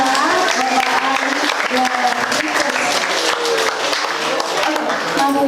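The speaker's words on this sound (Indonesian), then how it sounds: "boleh beri tepuk tangan kepada teman-teman kita" Seminar audience applauding the speakers, a dense, steady wash of clapping from a crowd filling the room, with voices faintly underneath.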